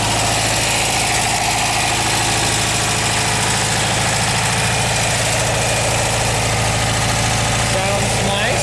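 A 1974 Volkswagen Westfalia camper's engine idles with a steady, loud, close mechanical rumble and faint ticking that holds evenly throughout.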